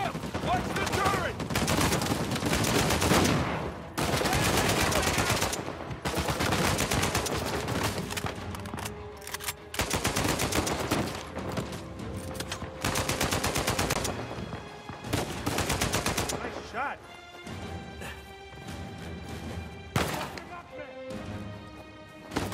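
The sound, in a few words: turret gunfire in video game Uncharted 4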